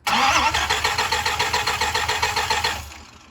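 Starter cranking a Dodge Viper supercar that won't start: a quick, even chug of rapid turnover pulses lasting nearly three seconds without the engine catching, then cutting off, loud and close.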